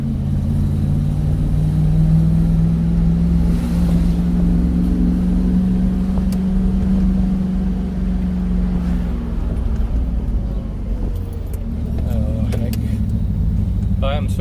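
A Triumph Stag engine idles on a little choke, a steady low rumble from close by that holds level before easing slightly near the end, with someone talking over it.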